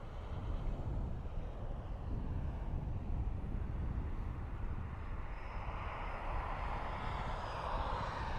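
A DHL cargo airplane at Dublin Airport roars as a broad, steady engine rumble, distant but sustained throughout, with the noise brightening slightly toward the end and no voices.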